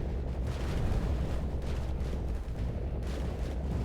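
A building crumbles in the video game Instruments of Destruction, a dense, sustained rumbling roar of collapse with rolling low booms and debris noise throughout.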